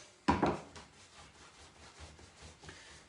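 A paintbrush rubbing chalk paint off a surface, starting with one sharper scrub and followed by soft repeated brushing strokes, faint and close.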